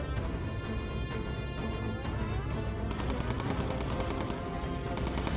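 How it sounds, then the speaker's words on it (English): Bomber machine guns fire automatically in the World War II bomber game Bomber Crew, a rapid rattling burst that starts partway through over a constant background of game sound. "the guns automatically fire"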